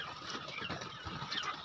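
Chickens clucking at close range on a farm where hens and ducks are kept in cages, a busy, continuous cackle with no talking over it.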